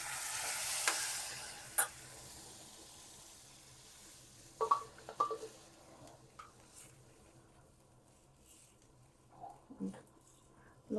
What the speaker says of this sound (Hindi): देखो तेल छोड़ चुके हैं मेरा मसाला। मैं डाल देती इसमें अपनी दाल।